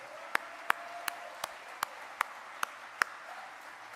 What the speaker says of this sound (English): Yes, please, give them an applause, they deserve it.